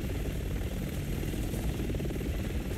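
A helicopter in the Resident Evil 6 video game gives a steady, loud, low rotor and engine drone that holds for the full stretch without breaks.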